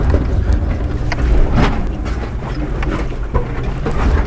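A 4x4 in low-range first gear crawls over rocks, its engine a loud, close low rumble with wind buffeting the microphone and occasional knocks as the tires climb.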